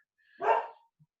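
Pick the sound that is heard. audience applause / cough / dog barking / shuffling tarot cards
dog barking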